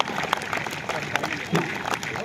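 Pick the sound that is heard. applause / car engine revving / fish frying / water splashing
applause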